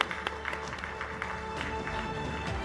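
Applause from an audience at a live event honoring women, a steady wash of clapping filling the room at moderate volume for a few seconds, with no voices standing out.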